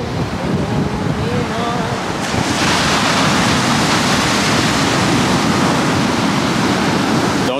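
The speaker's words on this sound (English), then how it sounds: "Thing about over here by the ocean, guys, it's always extra windy" Ocean surf and strong wind on a beach in Cabo: a loud, continuous roar of breaking waves mixed with gusty wind buffeting the microphone, swelling slightly louder midway.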